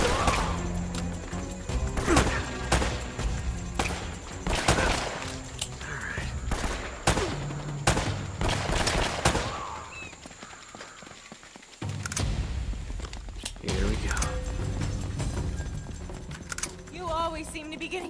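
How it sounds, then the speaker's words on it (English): Enemy gunfire in the video game Uncharted: Drake's Fortune, rapid bursts of shots and sharp impacts crowding one another, with a short lull midway before the firing resumes. "They're shooting at you too, you know."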